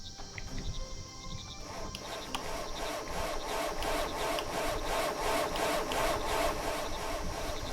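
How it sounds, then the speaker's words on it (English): Repetitive wood sawing from villagers at work in the Viking settlement game Land of the Vikings, a steady rhythmic rasp of back-and-forth strokes building slightly over several seconds amid faint ambient background, with no speech. "That sawing sound is a little bit annoying."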